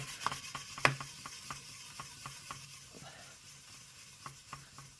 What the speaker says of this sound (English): I'm going to wet my cotton wool, dip it in the silver in powder,